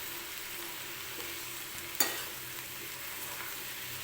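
Spring onion greens cooking in a kadhai give a quiet, steady sizzle while being stirred, with one brief sharp scrape of the utensil against the pan partway through.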